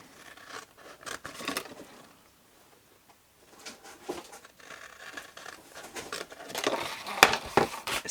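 Scissors cut through paper in a series of short snips and rustles, fairly quiet and close, with a pause in the middle before more cutting and paper handling.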